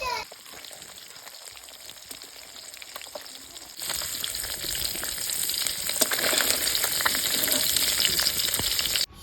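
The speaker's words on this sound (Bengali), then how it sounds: "মাছটাকে আমি একটু হালকা করে ভাজবো, বেশি ভাজবো না।" Small puti fish fry in hot oil with a steady crackling sizzle that swells and brightens after a few seconds and keeps up continuously, close to the pan.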